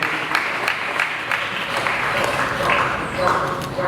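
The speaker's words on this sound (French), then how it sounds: "Vous pouvez l'applaudir s'il vous plaît." An audience at a church ministry graduation commencement in Haiti applauds in a sustained burst of clapping, fairly close and dense, as a voice speaks over it.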